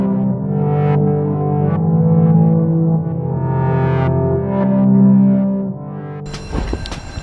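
A rooftop intruder alarm on a house in Cuenca, Ecuador sounds a loud, warbling, wavering tone for several seconds. It ends in a sudden burst of harsh, metallic bell ringing.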